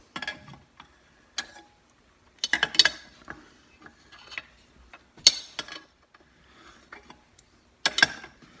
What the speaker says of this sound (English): then I'm going to use the wrench to finish it out